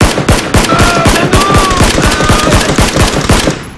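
Gunfire in a video game, many rapid automatic shots from several weapons firing over one another, loud and close, in dense continuous bursts.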